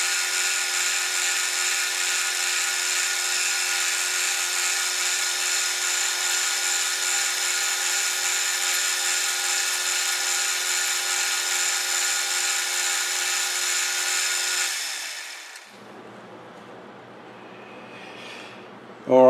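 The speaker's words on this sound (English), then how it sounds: "Finish boring this and threading it, and then part that off." A metal lathe boring and threading a part, with a steady, even machining whine running continuously for most of the stretch before cutting off sharply, leaving a quieter hum.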